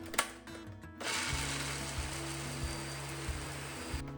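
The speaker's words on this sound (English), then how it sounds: "Then I transferred them to a blender with a few tablespoons of cream and started to blend them." A large blender whirs steadily as it purées toasted pistachios with a few tablespoons of cream, starting after a brief clatter and running loud and continuous with faint rhythmic pulses in the motor.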